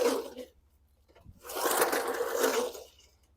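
The recoil starter of an old Briggs & Stratton 3.5 hp lawn mower engine with magnetron ignition is pulled twice, a short rasping pull then a longer squealing, scraping one, close by with no talking.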